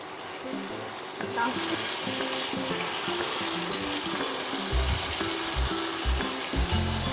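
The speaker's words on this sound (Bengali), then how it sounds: "মশলাটাকে আমি একটু ভালো করে কষিয়ে নেব" Chana masala spice paste frying in oil with salt added, a continuous sizzle joined by rhythmic spatula scraping and knocks against the pan, busier toward the end, with no talking.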